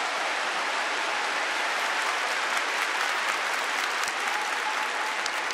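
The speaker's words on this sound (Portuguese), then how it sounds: "Aplaudam a Ele." Steady, dense applause from a church congregation during a religious talk, a broad, even roar of many hands clapping at once, sustained evenly from start to finish without speech.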